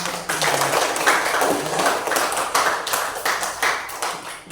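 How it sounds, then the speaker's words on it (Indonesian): Classroom applause from pupils at an Islamic primary school, a dense, steady patter of many hands clapping close by for several seconds, with a faint voice briefly underneath. "Tepuk tangan."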